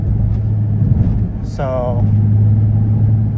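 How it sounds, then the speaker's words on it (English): A Nissan 350Z driving on the road before a coilover suspension install, with a steady low engine and road rumble throughout and a brief squeak partway through, under a voice speaking briefly. "car drives good, straight, smooth"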